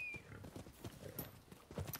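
Horse hooves clip-clop in the Rise of the Ronin video game, a quick, even run of hoofbeats at moderate volume with a brief high whinny-like tone early on.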